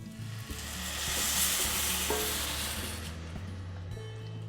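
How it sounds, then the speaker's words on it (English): Sausage gravy with milk bubbles and sizzles softly in a pan while a utensil stirs and scrapes, with a continuous close frying hiss and occasional light knocks, with no talk. "Scrape the bottom and sides of the pan to release all of those bits and pieces of the sausage"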